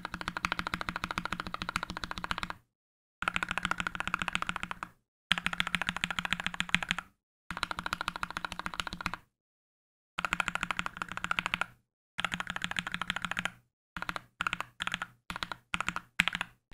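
Typing on a modified mechanical keyboard fitted with Akko CS Starfish switches: dense, steady clacking in several bursts separated by brief pauses, ending in quicker short flurries, close-miked and alone.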